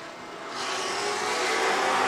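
A pack of muscle race cars roars into action at the green flag of the SVRA Heacock Classic Gold Cup at VIR. The engines rise from a distant rumble into a loud, building roar as the cars accelerate toward the start.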